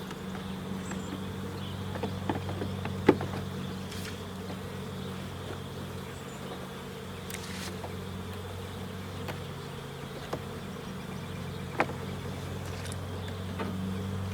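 Honey bees from an opened hive drone in a low, constant hum during an inspection. Faint clicks and handling knocks from the frames are scattered through the quiet.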